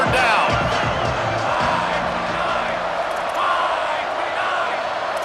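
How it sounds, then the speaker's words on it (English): A stadium crowd roars and cheers on third down in an EA Sports College Football game, a loud, sustained wash of voices with rising whoops, while a commentator talks over it. "The Red Raider crowd rising to the occasion to help its defense on third down."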